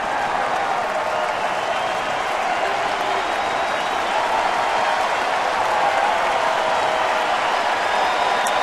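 A big baseball stadium crowd in Milwaukee claps and cheers in a continuous, even wash of applause during a late-inning at-bat, with no single claps standing out.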